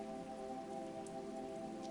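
Steady rain falling on surfaces, a continuous even hiss with occasional brighter drip accents, no voices.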